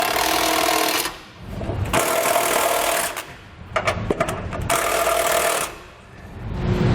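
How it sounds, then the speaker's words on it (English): A power tool with a 19mm socket whirs in several sustained, loud bursts while tightening flange nuts on a Curt trailer hitch on a 2018 Ford Transit T250, with brief quiet gaps and rattling between runs. "We'll install our flange nuts, 19mm socket, and we'll tighten our hardware."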